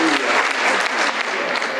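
A short burst of dense applause from delegates at a Force Ouvrière union congress, loud and close, a uniform wash of many hands with no clear speech.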